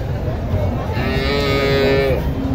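A large dairy cow at a cattle market in Joypurhat, Bangladesh, lets out a long, loud moo close by, rising and then trailing off, over a constant background rumble.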